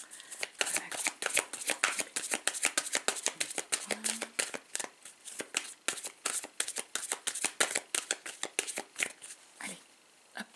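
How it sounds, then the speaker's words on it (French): A deck of cards is shuffled for a card reading: fast, continuous flicking riffles close by for about ten seconds, then tapering off. "D'abord, je vais prendre un peu de temps de battre les cartes."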